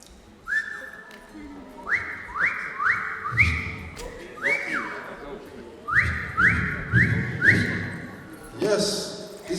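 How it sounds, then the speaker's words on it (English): Pet cockatoo whistling in a series of rising, upward-sliding whistles in short bursts, with bumps and thuds of handling noise underneath and faint background sound. "this is the sound of late Gopi, our beloved cockatoo bird"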